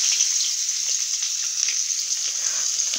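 Onions frying in a hot pan, a dense, even sizzle with crackling spits running continuously and close up, with no voices over it.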